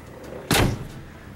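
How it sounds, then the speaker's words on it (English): A car door on a 1948 DeSoto hot rod sedan shuts once with a single solid, close thud and brief rattle, standing alone against quiet background. "That door shuts nice."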